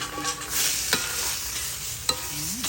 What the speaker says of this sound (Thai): ใส่ไก่ลงไปผัดก่อน